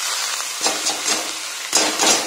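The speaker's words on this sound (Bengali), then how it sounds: "রসুন পেঁয়াজ দিয়ে আমি শাকটা ভাজবো।" Water spinach frying in a pan with garlic and onion: a continuous close sizzle broken by a few sharp stirring scrapes and clatters.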